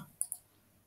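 Two quick, faint computer mouse clicks in close succession, alone in a quiet room.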